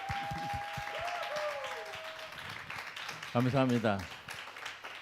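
Faint applause from a youth worship gathering welcoming a pastor, heard as a soft background patter beneath someone speaking.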